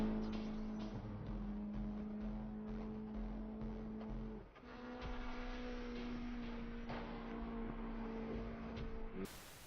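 A drifting car passes in slowed-down playback, its engine tone a sustained drone that drops in pitch midway as it goes by, with a rough tire-scrub texture underneath.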